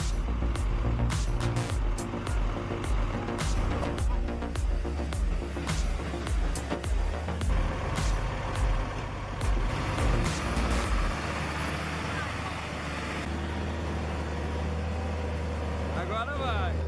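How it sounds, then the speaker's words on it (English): A heavy timber truck loaded with dozens of tons of wood pulls up a steep slope, its deep engine droning steadily, with a voice talking over it. "A beast with an incredibly powerful engine, carrying dozens of tons of wood, yet still able to pull a heavy timber truck up a treacherous slope"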